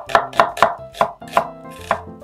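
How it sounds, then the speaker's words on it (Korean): Knife slicing half an onion into thin strips on a cutting board, six crisp, evenly spaced chops, close and clear with no voices. "양파는 채 썰어서 준비합니다"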